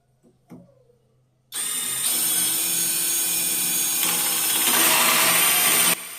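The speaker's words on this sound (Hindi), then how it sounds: "अब मैं यहां पर ले रहा हूं होल सॉ कटर। इसका साइज है 45 mm" A brushless cordless drill fitted with a 45 mm hole saw cutter. After a brief knock and a quiet pause, it spins up to a loud, sustained high whine that holds for about four seconds, then cuts off.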